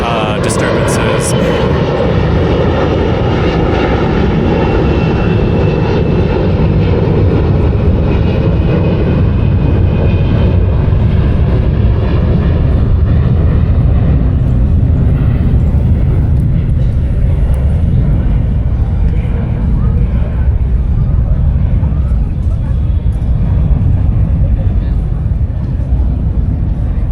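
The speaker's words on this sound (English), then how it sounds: "there was an airplane flying above, so it was kind of loud" An airplane passing overhead, a loud, continuous engine roar that fills the whole span, strongest at the start and slowly easing as it moves away, with no pause.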